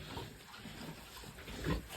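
A medium-sized piglet, one of several being sold and carried to the city, gives a brief, low grunt near the end, faint and close against quiet background noise.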